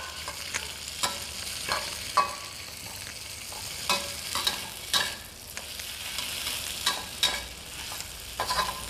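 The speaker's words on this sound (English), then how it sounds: "In the same wok, we still have a little cooking oil here. We adding in noodles." Wide rice noodles fry in a wok with a little oil, sizzling steadily under repeated sharp scrapes and clacks of a spatula tossing them, close and distinct with no talking.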